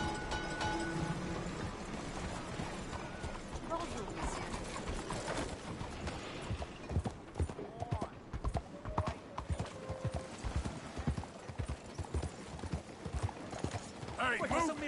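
Horse hooves clip-clopping at a steady rhythm in the Western video game Red Dead Redemption 2, with an occasional whinny and someone talking over the riding.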